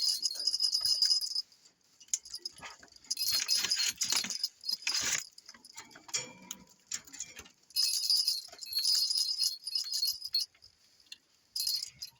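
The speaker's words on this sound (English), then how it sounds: "we'll put the little string with bells on it." A small string of bells hangs in a rat cage and jingles in bright, irregular bursts of tinkling and clinking, with quiet pauses between shakes and no voices.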